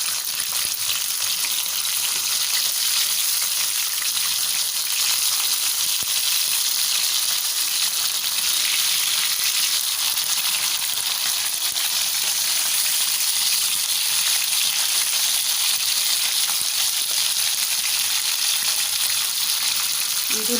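Seekh kababs made with chicken mince cook over an open flame, giving a steady, continuous sizzle and fry hiss with no talking.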